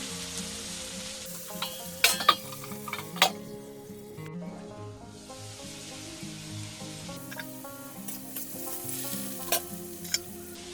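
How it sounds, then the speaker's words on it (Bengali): Potatoes with turmeric fry in a pan for a bathua greens dish, a soft continuous sizzle punctuated by several sharp spatula clanks and scrapes against the pan, alone without voices. "একটু হলুদ দেব এটা দু তিন মিনিট একটু নরম করে ভেজে নেব"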